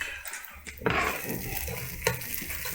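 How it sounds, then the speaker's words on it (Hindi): Onion omelette sizzling in a frying pan, with a steady hiss of frying and a couple of sharp utensil scrapes and clinks against the pan. "हमारा ये लंच तैयार हो रहा है, प्याज वाला ऑमलेट।"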